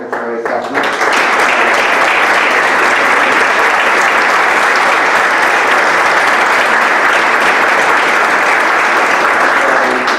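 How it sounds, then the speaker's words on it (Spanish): Sustained, loud applause from an audience fills a plenary session for Andalusia Day, steady dense clapping starting after a brief quiet moment and continuing without letup. "le pido un aplauso de los que estamos aquí"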